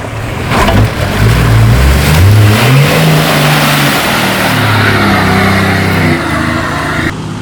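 A 4WD pushing through a muddy bog hole in Julimar State Forest, Western Australia: a loud, close engine roars throughout, its pitch climbing and dropping through repeated revs as it strains forward.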